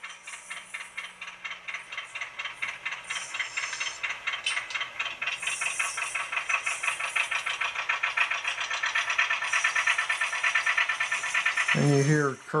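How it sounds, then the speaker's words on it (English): Rapid rhythmic clickety-clack of rail joints from a PIKO HO Whitcomb 65-ton diesel model locomotive in USATC markings, a steady metallic rattle running continuously and close, ending with a brief squeal-like burst. "F25 is clickety clack."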